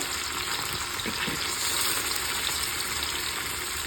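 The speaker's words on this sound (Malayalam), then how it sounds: "ചെറിയ അയിലക്കുഞ്ഞ് വറുത്തത്" Steady crackling sizzle of small mackerel frying in hot oil, continuous and fairly loud throughout, with no voices.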